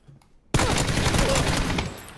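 A sustained burst of rapid automatic gunfire in PUBG erupts after a brief quiet moment, loud and dense, continuing without a break for almost two seconds before easing slightly at the end.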